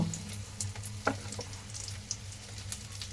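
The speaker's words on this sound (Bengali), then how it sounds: "এখন খুবই আস্তে জালে শুকনো মরিচগুলো ভেজে নিতে হবে।" Dried red chillies fry gently in hot oil over a low flame, giving a faint, steady sizzle with small pops and a soft stirring clatter.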